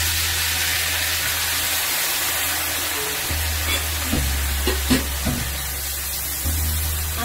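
Cooked chicken drops into hot olive oil in a wok, setting off a steady close sizzle and hiss, with a few sharp clinks and stirring knocks midway.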